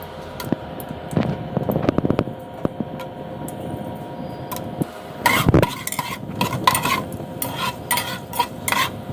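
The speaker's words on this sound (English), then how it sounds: "So now the oil is hot, so I'm going to put all the dry ingredients except the saffron and the cashew nuts." Dry spices for chicken biryani dropped into hot oil, with a pan sizzling, a spoon scraping and clinking against the pot, and a burst of louder crackling and stirring midway, close and without talk.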